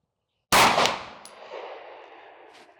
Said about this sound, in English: Let's try these CCI Blazer 124 grains, which I honestly never fired before.